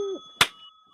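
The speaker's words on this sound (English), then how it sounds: "how's that bell working out for you?" A single bright bell strike rings out close and loud, a sharp metallic ding with a sustained ringing tone that fades quickly, following a brief low hum.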